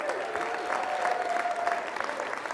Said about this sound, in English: give them a big round of applause for supporting